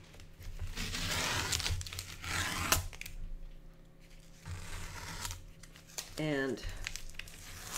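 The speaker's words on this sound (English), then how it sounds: "I'm just going to peel off this tape and see what we have" Masking tape is peeled off a watercolor painting of a pumpkin in close, crackling, tearing bursts separated by pauses, with a voice speaking quietly nearby.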